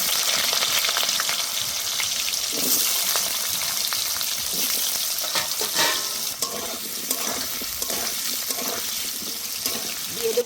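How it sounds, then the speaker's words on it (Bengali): Potato pieces frying in oil in a pan for a bottle gourd and shrimp dish, a loud, steady close sizzle with occasional stirring clatter, no talking. "এবার আলুগুলো ভেজে নেব।"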